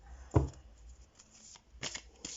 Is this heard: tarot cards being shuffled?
yes